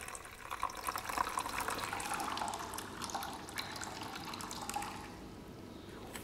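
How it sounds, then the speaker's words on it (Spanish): Water poured from a spout straight into a bowl for guinea pigs, a steady close splashing fill that thins toward the end, with no talking. "lo vamos a echar directamente en un cuenco y, si es posible, pondremos mucho mejor agua mineral"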